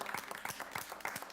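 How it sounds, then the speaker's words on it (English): A small group clapping in applause at the end of a miniature painting competition, quick and brief, fairly faint and steady for about a second. "applause, everyone."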